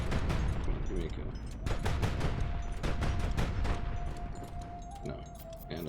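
Ship guns firing in the video game Highfleet, a rapid fusillade of booming shots and blasts layered over each other, loud and close, with a steady tone running beneath and a voice talking over parts of it.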